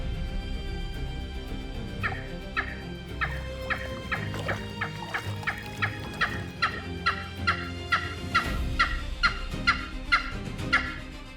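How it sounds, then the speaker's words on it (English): A flock of helmeted guinea fowl calling in dry golden brush, a steady run of sharp, repeated clucking cries in a quick rhythm, moderately close, with no talk. "a flock of helmeted guinea fowl scratches for food fast"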